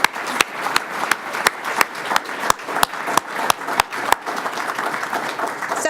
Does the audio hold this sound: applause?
yes